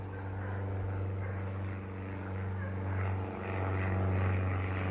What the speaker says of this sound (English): Why is this plane so low?